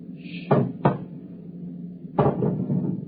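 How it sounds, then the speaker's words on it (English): Three sharp metallic clicks and clunks, spaced apart, like a lock being worked at a door, with a low steady hum underneath. "It's at the door. Get ready. It's opening the lock."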